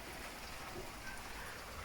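Soft, steady hiss of rain falling, faint and continuous, with no other sounds standing out.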